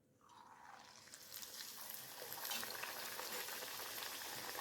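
Moong dal kachoris drop into hot oil for deep frying, setting off a bubbling sizzle that builds from quiet to a dense, steady frying hiss, heard up close and alone.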